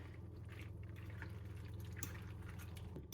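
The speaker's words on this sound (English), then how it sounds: "I'm gonna pour this custard and cheese mix over the top and mix that all in." A custard and cheese mixture is poured over a casserole, making soft, wet dripping and trickling sounds that are faint and steady.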